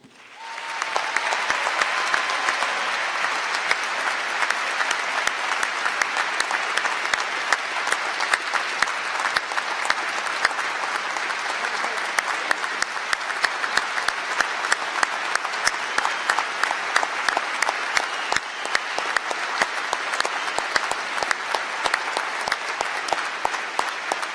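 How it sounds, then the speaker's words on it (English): Large commencement ceremony audience breaks into sustained applause, a loud, dense roar of clapping that starts quickly and holds steady for over twenty seconds. "I'd like to give him a special recognition, a round of applause, please"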